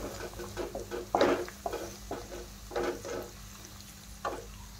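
A spoon stirs turmeric and a little red chili powder together in a pan while cooking stuffed bitter gourd bhaji, giving close, irregular scraping and swishing strokes with a few louder bursts and no talking.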